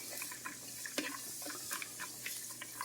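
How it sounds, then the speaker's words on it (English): Onion, celery and carrots sizzle softly in a soup pot, a low steady frying crackle with scattered small pops and occasional stirring clinks, fairly quiet and close, with no talk. "It's got a little baby sizzle going on."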